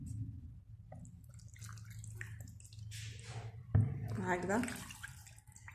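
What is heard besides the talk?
pouring water over chicken in an oven dish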